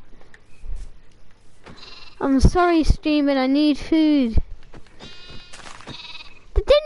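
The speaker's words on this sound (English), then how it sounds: "Baby sheep." Baby sheep bleating in a video game: several wavering, nasal bleats in quick succession mid-clip, loud and close, with a person talking quietly before and after.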